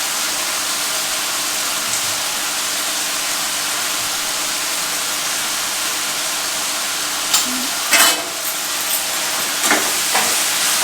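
Cumin tempering fries in a pan with a steady, dense sizzle and a few brief clatters near the end, heard alone without talk.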